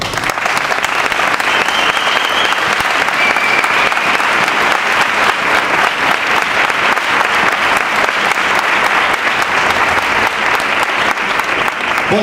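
Dense, steady audience applause fills a traditional Asturian Christmas gathering in Grau, continuous and loud throughout, with no voices standing out.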